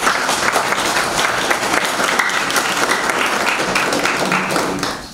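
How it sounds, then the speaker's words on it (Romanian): Audience at a book launch gives a round of applause for a teacher in the hall, continuous dense clapping at a strong even level for about five seconds, tailing off at the end. "merită un rând de aplauze"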